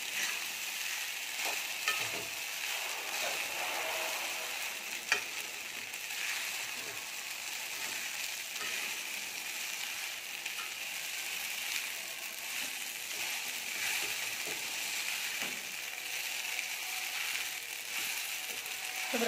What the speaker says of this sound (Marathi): अशा प्रकारे चांगला साबुदाणा मिक्स करून घ्यायचा आहे